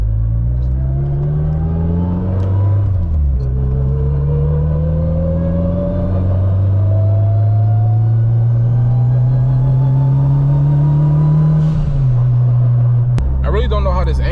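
A Toyota Corolla engine runs loud and close, its pitch climbing slowly through long steady revs with brief dips and a short drop near the end, droning without pause.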